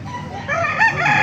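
A young white kelso gamefowl rooster crows nearby, its rising, strained call filling the short moment at a market for fowl, loud and close.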